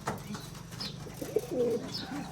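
Pigeons at a local pigeon farm give low, soft cooing calls close by, with a few brief wing flutters and a faint chirp among them.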